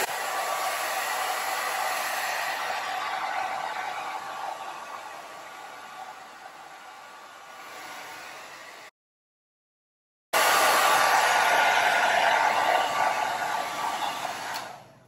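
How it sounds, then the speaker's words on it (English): A hair dryer blows with a steady loud whoosh, fades lower, cuts off for a moment of silence, then roars back on at full power. "Now I will switch on my dryer."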